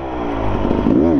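A KTM enduro motorcycle rides hard off-road in a king-of-the-hill hill-climb contest, its engine loud and close, rising and falling in pitch as the throttle is worked across the short burst.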